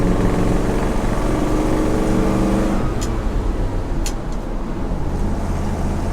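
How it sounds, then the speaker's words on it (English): Old vehicle with a 429 V8 engine running and driving, a steady loud engine drone close by that shifts in tone partway through, with no voices. "And the mighty 429 roars to life."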